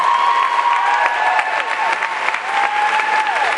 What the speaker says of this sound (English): let's give all of our contestants one more round of applause for showing us how talented they are